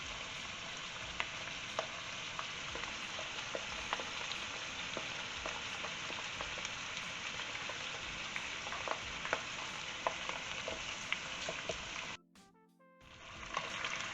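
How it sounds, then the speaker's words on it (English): Mixed vegetables sauté lightly in a hot pan for a Mediterranean lamb leg roast, giving a steady, close, dense sizzle with small crackles throughout, briefly dropping out near the end before resuming. "Just light saute these vegetables"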